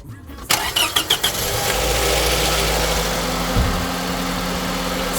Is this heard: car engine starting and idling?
yes